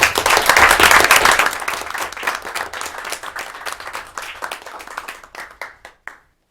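An audience claps after a poetry reading at a diversity, equity and inclusion committee event, starting as a loud, dense burst of applause and gradually thinning into scattered individual claps before stopping.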